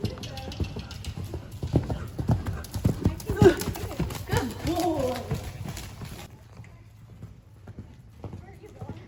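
Clip-clop of a horse's hooves as it canters bareback with a rider riding no-hands, a steady rhythmic beat up close, with a brief whinny and some voices in the first part before the hooves continue more quietly alone.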